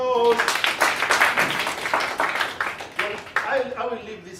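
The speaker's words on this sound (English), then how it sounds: "Let's give them a big round of applause." An audience claps for trainers at a business meeting, a brisk burst of applause fading over a few seconds, with a voice talking over it near the end.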